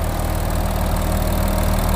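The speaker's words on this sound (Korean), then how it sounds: "엔진 소리 일정하네요." An Audi A7 55 TDI quattro diesel engine, 4G generation, idles with the bonnet open, giving a steady, even, loud low rumble with no variation and no talking.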